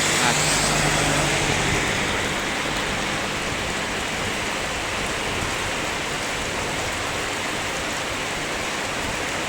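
Heavy rain roars in a constant broadband wash, loud and close, with a low rumble underneath and no clear speech.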